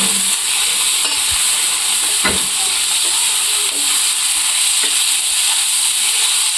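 Ground green chillies fry and get stirred in a pan for a wild-greens shiri bhaji, a steady hiss of sizzling with occasional scraping strokes of the spoon, close and fairly loud throughout.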